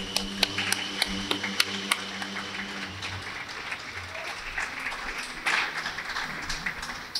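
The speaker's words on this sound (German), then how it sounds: "Ein dicker Applaus." An audience applauds two musicians at a concert in a peace tunnel, a dense, steady patter of many hands clapping that continues after a few sustained musical tones fade out early on.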